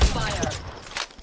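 A rapid burst of sustained gunfire in the battle game Apex Legends, dense and loud for the whole moment before it thins out at the end.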